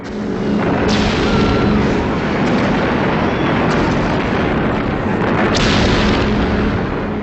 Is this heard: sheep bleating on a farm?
no